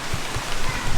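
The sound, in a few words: rain starting to fall outdoors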